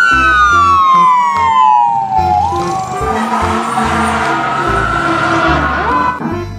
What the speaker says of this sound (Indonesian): Yang ini ada mobil pemadam kebakaran.